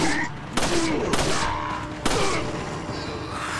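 Gunfire in Resident Evil 4 on PS4: several sharp shots cracking out at irregular intervals, fairly close and loud over a busy game background, with no talk.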